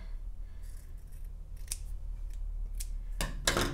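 Scissors snip through the end of a silk fabric seam allowance, several short close cuts spaced out, the loudest near the end, over a low steady hum.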